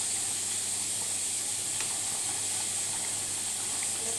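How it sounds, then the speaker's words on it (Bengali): A pot of matar paneer curry simmers on the stove, giving a soft, steady hiss and faint bubbling that stays constant throughout with no talk over it. "এই তরকারিটা আমাদের ফুটে ফুটছে,"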